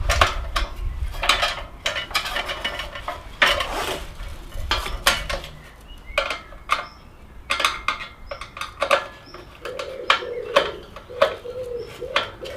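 Metal parts of a turkey fryer set clink and scrape as its bolts are tightened with a screwdriver, with irregular close taps and rattles, with birds cooing faintly in the background.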